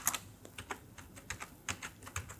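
Quick, uneven keystrokes on a computer keyboard enter a heading, close and fairly quiet, in short bursts with brief pauses.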